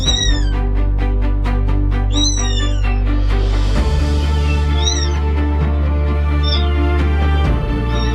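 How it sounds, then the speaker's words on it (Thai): A mother cat rescuing newborn kittens from a flooding drain meows repeatedly in loud, drawn-out cries over a steady rushing drone of water. "แมว"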